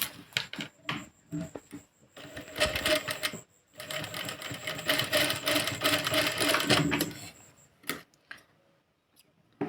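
A sewing machine stitches tucks into fabric for a katori blouse, running in loud rapid bursts with short pauses between runs, close up and with no talk over it.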